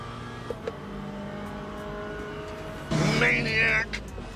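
An LMP3 prototype race car engine in the Le Mans Ultimate sim, a steady mid-pitched drone with a brief louder swell of revving near the end, heard under a speaking voice.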